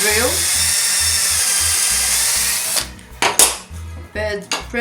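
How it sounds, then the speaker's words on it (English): A power drill drilling into a wooden dowel whines loudly and steadily for a few seconds, then stops and starts in short bursts amid clattering handling noises. "drill our wood dowel"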